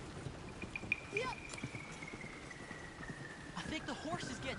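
Rhythmic horse hooves clip-clopping at a steady trot along a road in a PS4 video game, with a thin whistling tone and some faint voices in the background.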